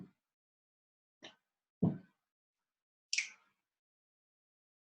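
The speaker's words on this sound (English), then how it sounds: "Stomp, swish, swish, stomp, swish, snap." Body percussion of stomps, swishes and a finger snap, played as short separate hits with gaps between them: a low thud near two seconds, brighter brushing sounds and a crisp snap, close and fairly quiet.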